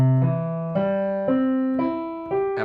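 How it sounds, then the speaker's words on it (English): Piano plays an ascending arpeggio, one note at a time, five or six clear sustained notes stepping upward in an even rhythm, close and alone. "we're simply playing whatever chord we're going to play, and we're just going to go up one note at a time"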